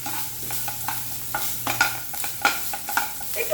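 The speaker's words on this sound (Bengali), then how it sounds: "তো নারকেলটাকে ভেজে নিচ্ছি" Grated coconut frying in oil in a pan for khichuri, soft steady sizzle with intermittent stirring scrapes and taps, moderately quiet and close, no talking.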